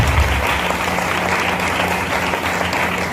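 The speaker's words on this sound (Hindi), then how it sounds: "जोरदार ताली बजाएंगे।" A church congregation gives loud, sustained applause, a dense wash of many hands clapping together from start to finish.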